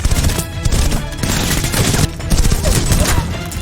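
Rapid gunfire exchange in a film action scene, dense bursts of shots and impacts crackling continuously at close range with a loud, busy mix throughout.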